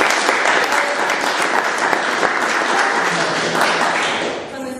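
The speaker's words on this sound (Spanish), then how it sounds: "Un fuerte aplauso al señor." Audience applause at a talk, a loud, dense round of clapping from a crowd, sustained evenly for several seconds and fading slightly at the end.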